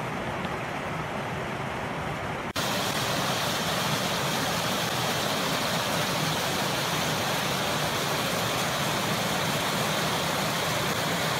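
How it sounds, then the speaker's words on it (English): Little Canyon Creek Falls, a waterfall in a creek canyon, roaring as a dense, steady broadband rush that jumps abruptly louder a couple of seconds in and then holds constant, with no voices. "So we'll take one final look at this waterfall"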